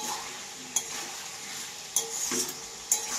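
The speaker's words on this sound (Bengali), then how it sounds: "আমি চিকেনটাকে ভাজে নিয়েছি, এবারে দেবো ধনিয়া পাতা। এটা একটুকু চালাবো।" A spoon stirs fried chicken with coriander leaves in a sizzling pan, the steady frying hiss broken by three sharp clinks of metal against the pan.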